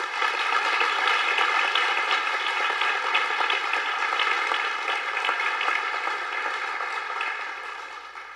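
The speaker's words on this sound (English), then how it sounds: "Let's give all of them a round of applause." An audience at a 2021 Visitor Industry Celebration applauds its honorees, a dense, sustained clapping from a crowd that stays full for several seconds and then gradually thins.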